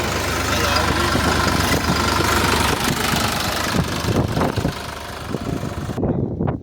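A tractor engine runs steadily nearby with a low, knocking rumble, while voices talk faintly over it; the engine cuts off abruptly near the end.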